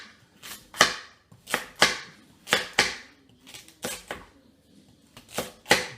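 Carrots are chopped on a cutting board for Caldo de Res soup. Sharp knife strikes land close by in a quick, uneven rhythm, sometimes in pairs, about a dozen in six seconds with no talk.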